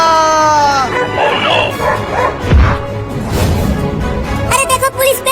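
A dog yips and barks in short bursts alongside whining, mixed with excited voices talking over the animal's noises.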